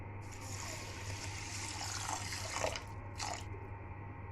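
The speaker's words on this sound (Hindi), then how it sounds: "वो डूब जाए इतना हमें पानी डालना है।" Water pours from a bowl over two bowls of sugar in a pan while making mysore pak, a soft, continuous splashing trickle with a few brief louder gushes near the end, heard close with no talk.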